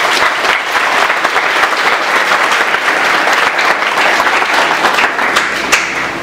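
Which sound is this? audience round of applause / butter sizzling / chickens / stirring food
audience round of applause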